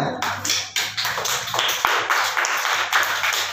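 Students in a classroom clap in a loose, uneven burst of hand claps, close and fairly loud, with a few sharp individual claps standing out.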